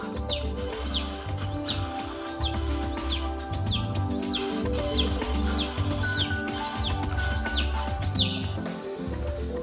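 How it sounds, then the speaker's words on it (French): A chick peeps in repeated, evenly spaced high chirps, about a dozen over several seconds, fairly close against a low, steady background hum. "Répondait aux appels désespérés du poussin."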